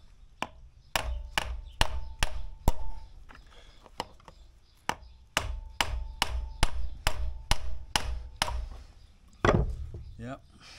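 A hammer peens over a chain rivet on a Honda CRF300L, sharp metallic blows struck close up in quick rhythmic bursts with short pauses, followed by a brief scrape near the end.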